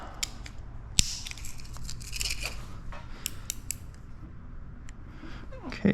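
Close, crisp snips and scrapes of a blade trimming paint protection film on a 2025 Honda Civic Type R, a sharp cut near the start and then steady intermittent slicing, with no talking.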